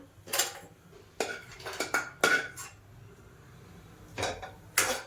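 Roasted food for a baby weight-gain home remedy is tipped from a pan onto a plate, giving several sharp metallic clinks and scrapes in short bursts, fairly close, with quiet gaps between.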